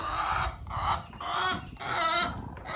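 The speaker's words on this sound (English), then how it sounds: "Did y'all ever have chickens wander up in your..." Chickens wander up near a motorcycle garage, clucking loudly and close in a busy run of repeated calls with short pauses between bursts.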